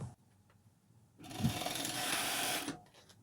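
Serger with differential feed gathering dress fabric runs in a single steady whirring burst of about a second and a half, loud and close after a quiet start, then stops.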